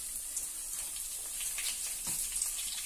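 Dried red chillies fry in hot sesame oil with a quiet, continuous sizzle and light crackling, steady and close, with no voices.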